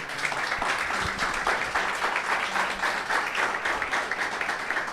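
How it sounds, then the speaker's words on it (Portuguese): Church congregation applauding throughout a worship service, a dense, steady wash of many hands clapping at moderate loudness with no talk over it. "Aplauda a Jesus."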